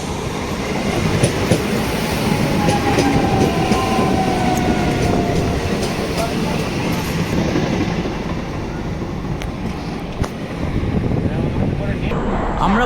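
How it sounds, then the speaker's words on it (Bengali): A passenger train rolls into Ghaziabad railway station, where construction work is under way, with a steady loud rumble of wheels and carriages that holds for the whole stretch and dips only briefly near the end. "আমরা এখন ঢুকছি গাজিয়াবাদ স্টেশনে।"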